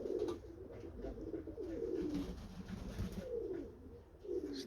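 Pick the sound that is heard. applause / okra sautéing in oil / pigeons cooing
pigeons cooing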